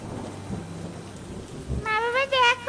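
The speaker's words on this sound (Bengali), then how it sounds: "বৃষ্টি পড়তে থাকে।" Thunder rumbles low under falling rain in an animated story, followed by a loud, high, wavering voice calling out at the end.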